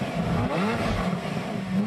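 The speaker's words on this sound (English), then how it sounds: "V12 Harmony is just the sweetest sound an engine can make" A Lamborghini Murcielago V12 engine starts and roars steadily with a deep, revving growl and rising pitch sweeps, loud and close with no talking.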